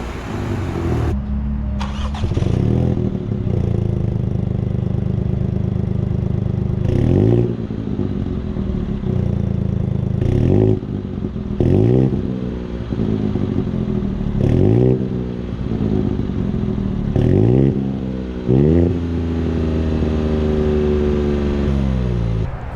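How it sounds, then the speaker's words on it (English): A 2021 MINI Cooper 1499 GT fitted with an upgraded aftermarket exhaust and heat shield fires up, then barks through a series of sharp, loud revs, each rising and falling back to a deep, steady idle, recorded close with no talking. "So this exhaust fits perfectly on this car."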